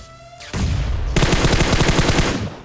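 A video-game gun fires in a loud, close burst of rapid automatic gunfire lasting about two seconds, with a second volley following the first with no gap.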